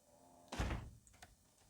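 In a video game, a library door unlocks with a single heavy thunk and a brief scraping slide, followed by a faint click, all alone against quiet background sound.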